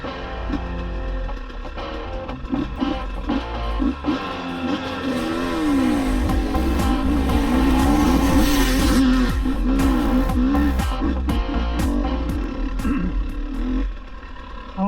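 A GasGas EC 300 two-stroke enduro motorcycle from 2022 revs hard, its engine rising to a loud, sustained roar and holding high before easing off, close by with no talk over it.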